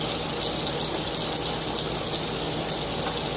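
Water runs steadily from a tap into a bowl of egg mixture for a keto recipe, a continuous close hiss and gush throughout with no talking.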